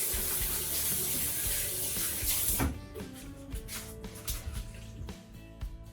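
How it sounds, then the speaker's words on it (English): A kitchen sink tap runs while hands are washed, a steady close rush of water for about two and a half seconds. The water cuts off abruptly, leaving quieter scattered clatter. "And I'm going to wash up my hands real quick."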